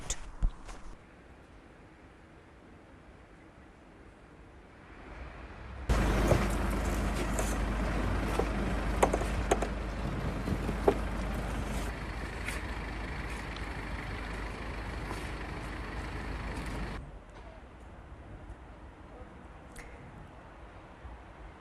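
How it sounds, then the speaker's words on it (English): A crane hoists an overturned truck out of the shoulder of an icy country road, with a loud, steady heavy-engine roar that swells in the middle for about eleven seconds before dropping back to a quieter rumble. "Road rescue workers deployed a crane to lift an overturned truck that skidded into the shoulder of an icy country road."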